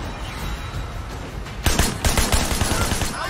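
An automatic weapon fires in Sleeping Dogs. After a quieter stretch of ambient game noise, it breaks into a loud rapid burst of shots about halfway through, with the bursts repeating close together until the end.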